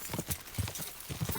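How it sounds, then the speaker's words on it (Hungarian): A horse gallops in Kingdom Come: Deliverance 2, its rhythmic, muffled hoofbeats landing in quick repeating clusters close by, steady throughout with no voices over them. "Ez tényleg tovább bírja a vágtát ez a ló."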